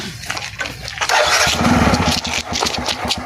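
A motorcycle cranks and catches partway through, then settles into a loud, steady, pulsing engine rumble; brief voices come before it, during a Gujarati wedding comedy skit.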